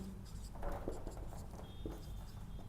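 A pen scratches out a handwritten answer in a maths class, soft strokes and taps coming in a quick irregular run against a faint background.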